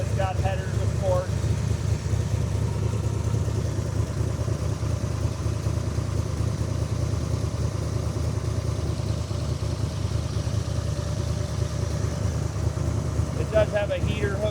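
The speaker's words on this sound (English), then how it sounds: "Engine sounds awesome." A Factory Five MK4 Cobra replica with a fuel-injected 427 V8 and headers idles steadily with a deep, even rumble that holds for the whole stretch, while someone talks intermittently over it.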